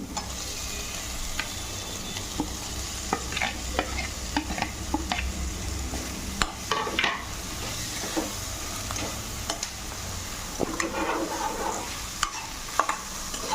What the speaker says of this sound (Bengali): পেঁয়াজটা ভাজা ভাজা হয়ে গেছে এবারে সেদ্ধ করা আলু দিয়ে দেবো